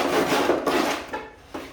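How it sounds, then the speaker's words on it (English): Hand saw cutting through cove cornice at an internal corner, a few close, raspy back-and-forth strokes with short pauses between them. "get our saw, cut in towards us"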